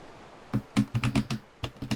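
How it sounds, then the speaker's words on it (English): Keys clacking on a computer keyboard in a series of sharp, irregular taps and short bursts, close to the microphone, with no speech. "I'm also typing horribly today."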